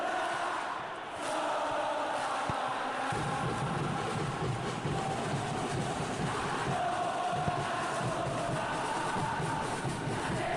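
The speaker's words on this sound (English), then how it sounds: "Well, the crowd aren't happy." A football stadium crowd at an Indonesia national team match murmurs and roars steadily, a dense wash of many voices that swells after a few seconds and holds loud throughout, with no clear single shout.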